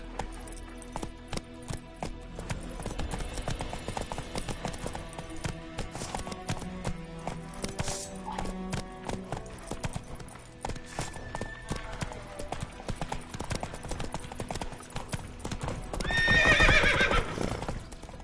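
Roach the horse in a video game gallops with a continuous, steady clip-clop of hooves under game music, then gives a loud, close whinny near the end.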